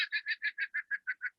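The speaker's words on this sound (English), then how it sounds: "It sounds like he's laughing" A kookaburra's laughing call rings out as a rapid, evenly spaced series of about nine bright, chuckling hoots in just over a second, close and clear with no other sound.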